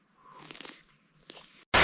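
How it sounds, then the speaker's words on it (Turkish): Two wet, crunchy bites into a mango with juicy chewing noises, close up, followed by a sudden loud burst of noise at the very end. "Dur son bir ısırık alayım."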